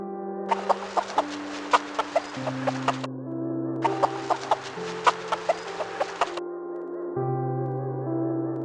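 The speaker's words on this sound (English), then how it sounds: "here is a hen." A hen clucks in two bursts of rapid, choppy clucks, separated by a short gap, over gentle background music.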